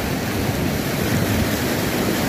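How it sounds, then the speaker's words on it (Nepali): The Relli river rushes and roars in a dense, unbroken broadband wash of moving water, loud and close, steady for the whole stretch with no voices. "खोला बजेर गननननन आवाज आइरहेको छ"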